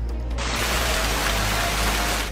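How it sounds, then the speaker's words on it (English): Heavy rain and hail pour down steadily during a storm that spawned funnel clouds over Washington, D.C., a dense, loud, unbroken hiss from start to finish with no voices. "The system produced funnel clouds and dumped rain and hail."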